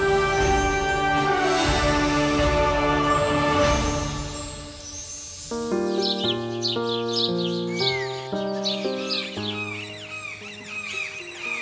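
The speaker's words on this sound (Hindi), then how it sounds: "ऐसे में पक्षी भी अपने घर को वापस लौट रहे हैं और खूब कोलाहल यहाँ सुनने को मिल रहा है मुझे इन पक्षियों का" Birds call noisily at dusk while returning to roost, their chirps and tweets layered over tonal background music that begins loud and shifts into a plucked melody partway through.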